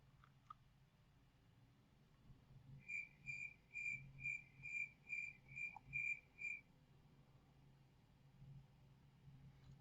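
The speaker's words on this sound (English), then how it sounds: "Let me get my crickets ready." Cricket chirping sound effect: a quick series of about eight evenly spaced, high, clear pulsed chirps in the middle of the stretch, fairly close, over a low background hum, with no talk.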